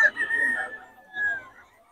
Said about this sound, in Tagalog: mga solid to mga manok ni Boss Batang.